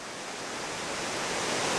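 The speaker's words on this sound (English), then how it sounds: "This is Slide Creek Falls." Slide Creek Falls, a waterfall pouring down a natural solid-rock slide, gives a steady, broad rushing hiss that swells slightly louder over the moment, with no voices.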